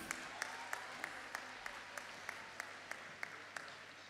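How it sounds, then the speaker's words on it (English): Faint, steady audience applause fills a graduation ceremony hall, a dense wash of many hands clapping at a distance, with a sharper clap standing out at regular intervals throughout. "Give them a round of applause"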